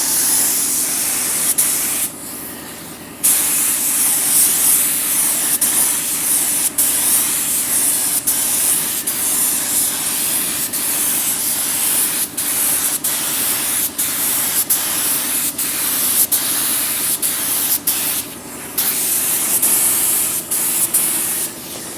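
A spray gun hisses loudly and almost continuously while painting a Mercedes truck, its broad steady spray broken by a few short pauses and brief clicks of the trigger.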